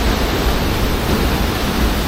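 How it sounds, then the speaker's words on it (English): Steady, loud rushing water roars continuously from Dolgoch Falls in North Wales, a dense, unbroken hiss with no voices. "The water's really rushing through at the moment"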